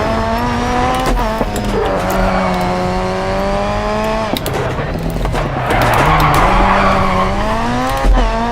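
In the DiRT 4 racing game, an RX2 rally car skids after a hard handbrake pull. Loud tires squeal in long sliding tones over a roaring, shifting engine, and the squeal rises again near the end.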